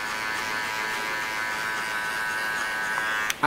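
Electric hair clipper giving a zero-cut haircut, a steady close buzzing drone running continuously, with a brief dip and rustle near the end.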